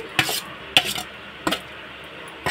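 Peanut chutney being mixed by hand in a stone mortar: three or four distinct scraping, grinding strokes spaced about two-thirds of a second apart, close and fairly clear over a quiet background.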